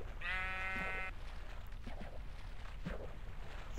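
Sheep in Minecraft give one clear, drawn-out bleat up close at the start, followed by quieter shuffling and faint game noise.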